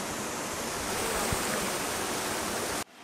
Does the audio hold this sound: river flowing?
yes